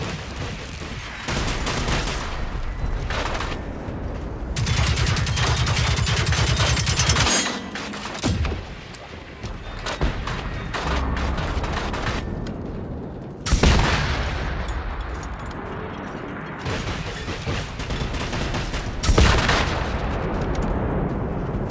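Rocket and mortar fire in the video game Generation Zero: heavy booming blasts and crackling volleys come in loud, broad bursts separated by short lulls, close and dense throughout, with no talk over them.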